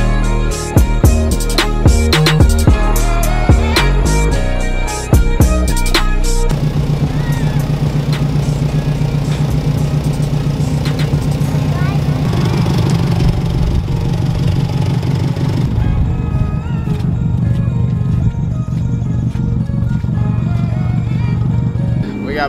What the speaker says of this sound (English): Start it up, let it run for a little bit, bleed the coolant system